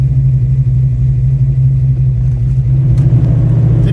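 A Ford Fox Body with a 351W V8 and Flowmaster 50 series mufflers idles, heard from inside the cabin with windows up: a steady, deep, rumbling drone that continues without pause, slightly swelling in the last second.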